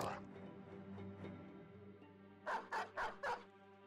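War dogs in the video game Battle Brothers bark four times in quick succession, sharp and close, following a stretch of low rumbling game noise.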